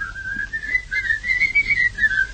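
A man whistles a lilting melody in a 1938 Dutch song, the bright tune close and clear and carried alone for a couple of seconds without words.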